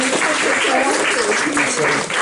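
Applause from a seated audience greeting a speaker at a ufology conference dinner, a continuous wash of clapping with voices audible beneath it.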